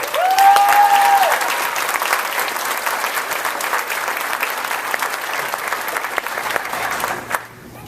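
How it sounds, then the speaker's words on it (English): A graduation crowd gives a speaker one more round of applause at a spring 2014 commencement; sharp whistles ring out over thick, loud clapping that holds steady for several seconds before dropping away abruptly. "Let's give Jill one more round of applause."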